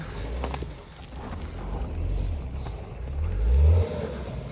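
An off-road vehicle on stock wheels and all-terrain tyres crawls over dirt and rock, its engine a low, close rumble that swells and revs briefly near the end, with no voices.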